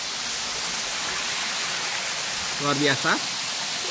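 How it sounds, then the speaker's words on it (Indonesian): Steady broadband rush of the Pangkung Sinangkao waterfall in Tabanan, Bali, pouring into a pool, continuous and fairly loud throughout, with a person speaking briefly over it near the end. "Air terjun Pangkung Senangkau. Sebelah sana air terjunnya."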